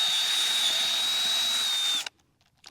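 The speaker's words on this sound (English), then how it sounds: "As long as your drill is on low gear, it works great." A power drill with an auger bit whines steadily at high pitch for about two seconds while planting bulbs, then cuts off, leaving near silence.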